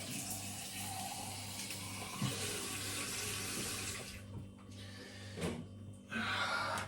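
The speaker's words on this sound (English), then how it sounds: "And then we're going to fill the rest with cold water." A kitchen tap runs cold water into a protein shaker bottle, a steady close rushing stream that shifts in tone as the bottle fills, then briefly cuts and resumes.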